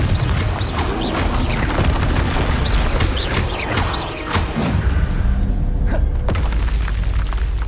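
Repeated Confringo fire-spell explosions in the video game Hogwarts Legacy, loud booming blasts and crashing bursts with whooshes, dense and continuous through combat, followed by a few sharper hits near the end.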